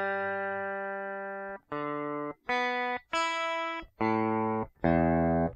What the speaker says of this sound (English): we're going to turn on the tuner and just make sure this is more or less in tune